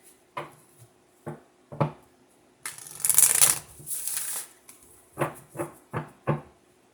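Cards being shuffled up close: several sharp taps and snaps, then a rapid riffling burst, followed by more crisp card taps.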